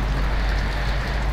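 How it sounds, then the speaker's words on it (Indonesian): Sudden heavy rain pours down on a road during a motorcycle ride, a dense, steady, loud hiss with a strong low rumble and no speech. "langsung hujan deras."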